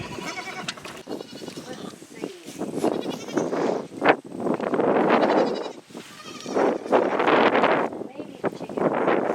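Goats on a ranch bleat repeatedly, loud and close, their wavering calls overlapping with wind buffeting the microphone, and a person talks in between the cries.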